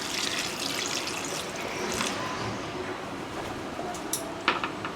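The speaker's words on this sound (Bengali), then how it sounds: "এবার আমি এর মধ্যে দিয়ে দেব জল" Water poured into a pan of sautéed potatoes and pointed gourd for a small-fish curry, a steady close splashing gush with faint sizzle beneath, easing toward the end with a few sharp clinks.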